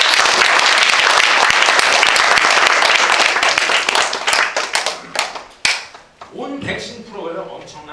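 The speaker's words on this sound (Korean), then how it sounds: "그럼에도 불구하고 하신 것에 너무 감사드리고 한번 박수 한번 보내드립니다." Audience at a lecture on hepatitis B vaccine side effects bursting into loud sustained clapping that gradually thins out, with someone speaking as it fades.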